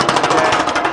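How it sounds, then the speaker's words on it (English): A power hammer pounds a 19 gauge sheet metal panel in a rapid, steady stream of loud, close mechanical blows with no pauses or talking. "the power hammer knocks this stuff down really nicely"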